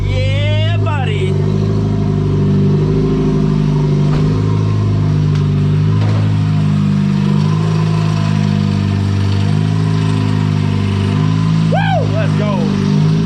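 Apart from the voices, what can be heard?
1.8T turbo swapped VW Golf 3 engine revving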